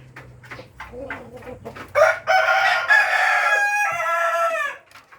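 Dark mahogany breeder hens clucking softly near a rooster that crows loudly and long, the crow dominating the middle of the clip on a farm.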